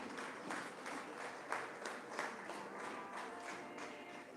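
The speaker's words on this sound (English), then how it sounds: "Can we have another huge round of applause to appreciate their hard work?" Faint applause from an audience at a Sikh high achievers awards ceremony, a steady patter of many hands clapping for a few seconds with no voices over it.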